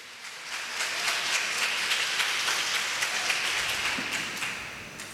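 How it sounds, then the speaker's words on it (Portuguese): A church congregation gives the Lord a round of applause, a dense, even clapping that swells quickly and fades near the end. "dá um aplauso para o Senhor"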